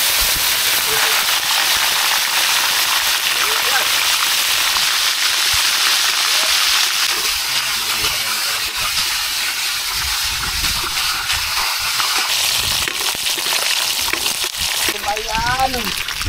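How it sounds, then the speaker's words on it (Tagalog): Venomous fish frying in hot oil in a pan, a loud constant sizzling hiss throughout, with a voice speaking faintly underneath. "Ipiprito na natin mga kababayan."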